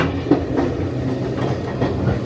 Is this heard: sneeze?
no